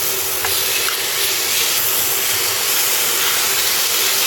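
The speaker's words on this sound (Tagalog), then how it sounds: "Ipiprito natin to hanggang sa meron na kayong makitang brown-brown." Pork fries in a pan with a loud, steady hiss and sizzle that runs without a break throughout, close by, with no speech.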